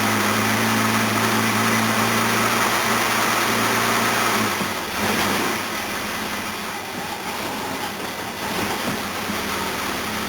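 A Jaguar XJ6 engine runs dead cold with no choke, giving a loud, steady rumbling idle close by with a slight dip partway through and no voices.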